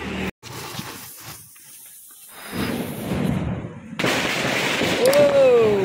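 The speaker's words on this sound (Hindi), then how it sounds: "ये जो छोटा सा पटाखे देख रहा कलर में, इसकी हम टेस्ट करते हैं" A small coloured Diwali firecracker goes off outdoors: a sharp near burst early on, then crackling and hissing that swells into a dense fizzing spray, with a whistling rise near the end and voices in the background.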